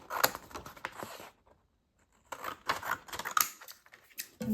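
Scissors cut across a paper template for a hidden paperclip, crisp snipping and crackling paper up close in two bursts separated by a quiet pause.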